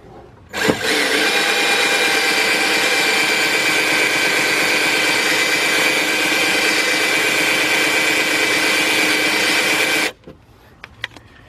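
A power drill starts abruptly and runs at a steady high whine for about nine seconds, loud and close, then stops, leaving a few small clicks; work on a Mercedes-Benz ML350 rear window regulator.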